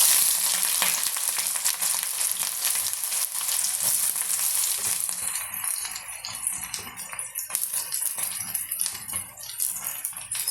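Sliced onions dropped into hot leftover oil in a pan for a jackfruit curry, a loud bright sizzle that settles into a softer, crackly frying hiss with occasional stirring clinks.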